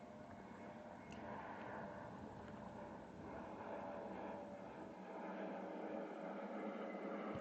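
Airplanes flying high in the sky overhead produce a faint, distant, continuous engine drone with a broad rushing quality, steady throughout with no voices.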